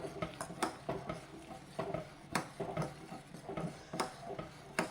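A spoon stirring ripe papaya pulissery curry in a pot, giving quiet, irregular scraping and clinking taps against the pot, with no voices.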